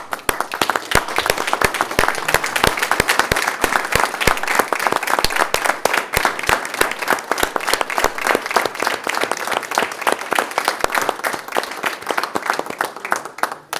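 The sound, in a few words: board meeting audience applauding the boys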